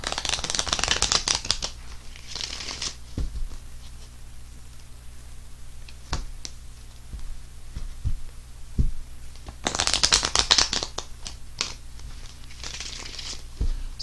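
Tarot cards are shuffled in two quick riffling bursts, close and crisp, separated by soft card taps and handling noises during a reading, with no talking.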